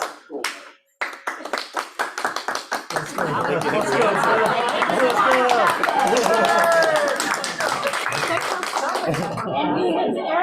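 A roomful of team meeting attendees claps as a vote, starting with scattered sharp claps that swell into sustained applause mixed with chatter, then tapering near the end.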